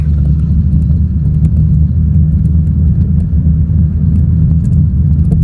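Heavy road traffic on the Islamabad Expressway at the Kak Pul bridge, a loud, steady rumble of engines and tyres that drones on without pause, close and dense.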